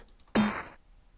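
A single gritty, crunchy snare hit with a harsh digital buzz and short decay, heard alone.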